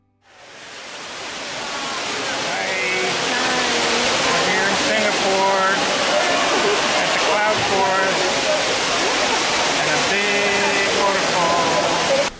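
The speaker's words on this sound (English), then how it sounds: "In its center is a giant mountain covered in flowing waterfalls." Rushing indoor waterfalls cascading down an artificial mountain in Singapore's Cloud Forest conservatory roar steadily after a quick fade-in, a dense continuous wash, with a crowd's chatter murmuring faintly underneath.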